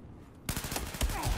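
Gunfire in the Battlefield 4 shooter on PS4 during a large Conquest match: after a quiet start, a sudden burst of rapid shots rattles in, with a couple of heavier thuds near the end, fairly loud and close.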